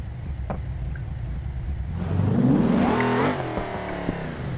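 In the BeamNG Drive video game, a supercharged Alexia V8 car engine idles, then revs sharply upward in pitch and settles back to a steady idle, heard alone and close.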